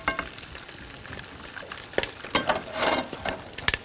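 Liver frying in a pan with tomato cubes in a home kitchen, a close crackling sizzle with uneven popping bursts that swell louder toward the end.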